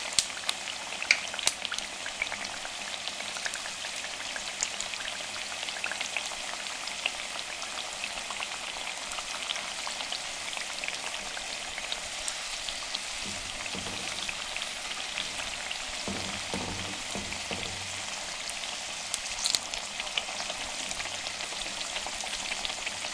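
Breaded potato cutlets frying in oil over a low flame, a steady dense crackle and hiss that runs unbroken throughout, with a few soft clunks near the middle.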